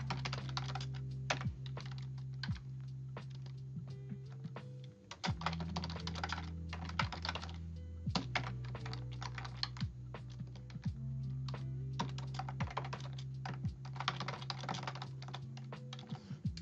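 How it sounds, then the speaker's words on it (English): Steady, rapid typing on a worn computer keyboard with a faded key section, keys clacking close and clear in continuous bursts over a low steady hum, with no speech. "I keep hitting the wrong key for the semicolon because this whole section of my keyboard's worn off"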